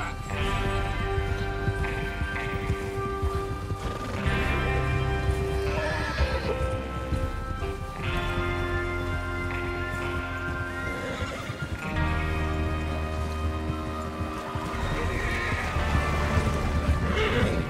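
Horses in the video game Red Dead Redemption 2 whinny repeatedly over rhythmic hoofbeats and a steady musical backdrop, the neighs recurring every few seconds.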